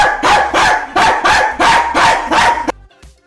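A man barks loudly like a dog, imitating it with about six rapid, harsh barks in a steady rhythm, close and alone, ending abruptly.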